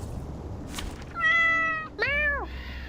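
A cat screeches in the video game Reverse: 1999, two drawn-out, wavering meows in succession, loud and close against a quiet game backdrop.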